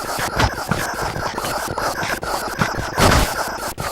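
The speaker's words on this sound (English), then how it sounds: "we see one of the first explosions going off. Soldiers are being blasted all over the place." Explosions in a Clay Soldiers battle video game: repeated booming blasts and crackling bursts come close together amid a busy, noisy scuffle. The loudest burst arrives near the end, with no speech.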